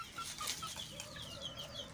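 Free-range village chickens cluck softly, giving scattered short clucks and chirps. The sound is faint and distant, with no voices over it.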